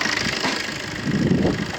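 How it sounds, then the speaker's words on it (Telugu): A Maruti Suzuki Swift Dzire VDI diesel car, built in late 2016, idles with a smooth, steady low engine rumble close by, with no talk over it. "ఇంజన్ కూడా సౌండ్ స్మూత్ ఉంది ఫ్రెండ్స్."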